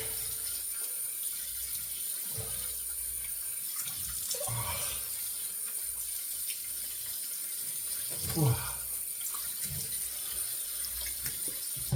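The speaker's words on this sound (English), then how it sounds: "All right, so we're gonna rinse here." Tap water runs steadily into a sink while a razor is rinsed, a close, even hiss with small splashes and clinks on top, with no talk.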